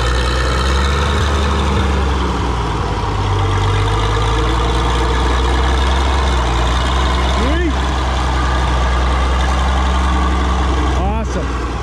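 An Oliver 2055 tractor engine runs steadily up close, a loud, deep, continuous rumble throughout, with a couple of brief squeaky mechanical chirps near the end.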